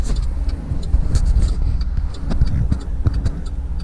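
Car driving along a road among Kentucky horse country near Wapakoneta, a steady loud engine and road rumble filling the cabin with small bumps and rattles throughout.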